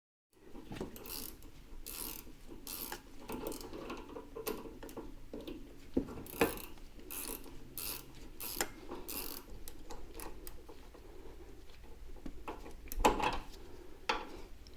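A ratchet with a 9/16 socket tightening the top shock bolt on a C3 Corvette front suspension, giving a steady train of rapid clicking pawl bursts in repeated strokes, close and clear.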